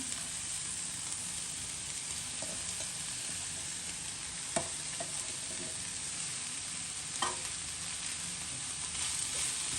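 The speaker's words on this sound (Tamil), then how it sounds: "தேங்காய்ப்பையும் போட்டு நல்லா வறுக்க வேணும்" Drumstick leaves and grated coconut stir-frying in a pan for a traditional Jaffna dish, a steady soft sizzle broken by a few sharp spatula scrapes and stirs.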